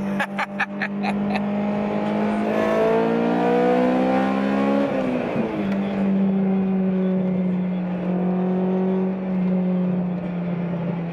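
A Honda S2000 engine revs hard, its pitch climbing steadily for several seconds before dropping sharply at the shift and settling into a lower steady drone, loud and close from inside the car with no talking.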